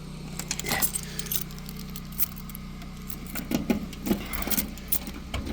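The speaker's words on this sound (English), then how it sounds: "So we'll put the keys in here." Keys jingle and click as they are put into the ignition of a Generac 24 kW standby generator, with metallic rattles over a steady low mechanical hum nearby.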